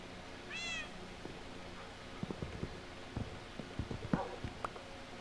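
Cat meowing in Minecraft: Bedrock Edition, a single short rising meow near the start followed by scattered soft clicks and taps from play, at moderate volume.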